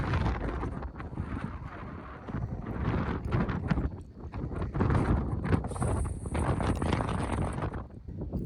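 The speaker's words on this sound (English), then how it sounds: "It's flipping the camera out of my hands so that you understand how strong the wind is here." Strong wind at a hilltop antenna site buffeting the microphone, a loud continuous roaring rumble with gusty surges throughout and no talking.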